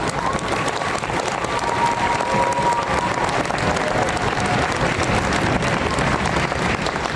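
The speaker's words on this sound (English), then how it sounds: "Please, another round of applause for our retirees" A large crowd at a US Army basic training graduation ceremony at Fort Jackson applauds retirees, dense sustained clapping filling a big space for several seconds.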